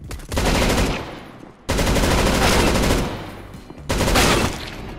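Bursts of M249 machine gun fire in a video game, three long sustained volleys of rapid, loud automatic shots separated by brief gaps.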